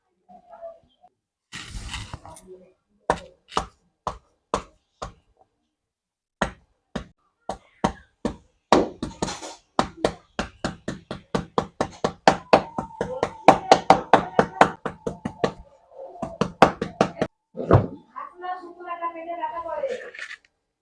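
Fresh ginger is crushed with a stone on a hard surface, heard as many sharp, close knocks, first spaced apart and then in quick rhythmic runs; a voice speaks briefly at the end.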